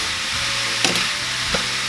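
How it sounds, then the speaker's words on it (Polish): Apples for an apple pie sizzle and crackle steadily in a hot pan, with a couple of soft scraping stirs, close by. "Smażymy do jabłka przez kilka minut,"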